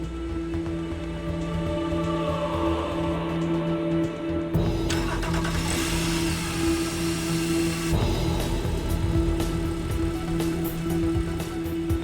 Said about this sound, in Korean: 이때는 실제로 연료를 넣고 엔진을 가동하죠.